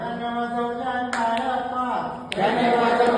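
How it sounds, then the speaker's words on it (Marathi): A few sharp hand claps land inside a Marathi children's counting song at a school training session, set against sung voices and steady musical accompaniment. "त्याने वाजवल्या टाळ्या पाच"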